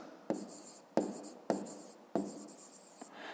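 Pen writing out a fifth-grade math solution on paper, four distinct scratchy strokes in a slow uneven rhythm, close and quiet.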